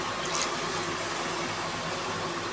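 A glass of water poured into a cooking pan over turmeric, salt, chili powder and coriander powder gives a steady close splashing and hissing rush of liquid that fills the whole short moment on its own.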